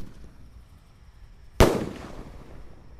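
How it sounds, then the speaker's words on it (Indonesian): A Basoka Roman Candle firework fires outdoors at night, one sharp loud burst after a quiet stretch, trailing into a crackling, hissing decay. "Basoka Roman Candle."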